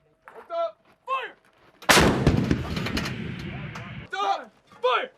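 A U.S. Marines artillery gun fires one loud, close blast during training, its roar booming and rolling away for about two seconds, between short shouted commands from crew members.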